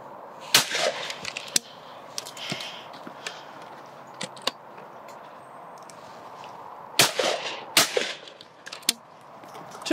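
Shotguns fired at clay targets during a simulated flush, sharp cracking shots that come singly and in quick pairs, fairly close, with quieter stretches of outdoor background between them.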